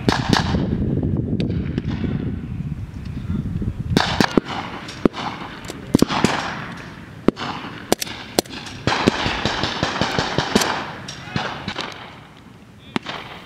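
Gunfire crackles during a firefight, with scattered sharp shots and short bursts, some near and loud, others more distant, over a noisy background of rumble and voices talking throughout.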